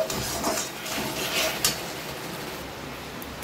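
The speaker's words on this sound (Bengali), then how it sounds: "এবার ভেজে রাখা মশলাটা দিয়ে দেবো, দিয়ে একটু নাড়াচাড়া করে" A utensil scrapes and clinks in a pan as fried spices are stirred into a date, raisin and tomato chutney, making a continuous soft scraping with a few sharper knocks.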